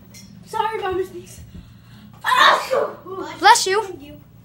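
A sharp sneeze bursts out close by amid casual voices of children and adults, followed by a second sudden outburst.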